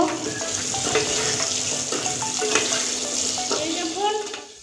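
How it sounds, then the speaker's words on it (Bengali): Chicken masala sizzling in a pan as turmeric and salt are stirred in, a steady close frying hiss with repeated scraping strokes of a spoon throughout. "এখন অল্প পরিমাণ হলুদ দিয়ে দিচ্ছি আর অল্প পরিমাণ লবণ দিয়ে দিচ্ছি এবার নেড়ে নেব"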